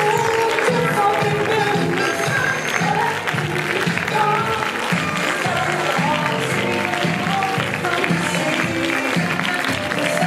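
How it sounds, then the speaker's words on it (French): A cinema audience claps and cheers steadily for a film's director and two lead actors after a screening, dense sustained applause filling the room with a few voices mixed in. "On va applaudir très fort s'il vous plaît Hugo Gélin, le réalisateur"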